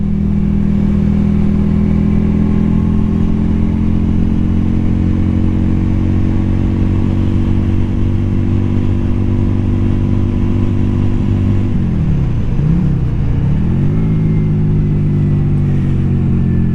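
Yamaha V-Star 250 motorcycle riding at speed, a loud steady engine drone with wind rumble, a brief dip and rise in engine pitch as the throttle eases off and comes back on.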